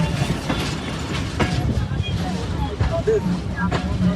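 A passenger train on the Pangsha to Kushtia line in Bangladesh rumbles steadily along the rails near Kumarkhali station, with a continuous low rolling drone and occasional rhythmic clacks and squeaks close by, and voices murmuring over it.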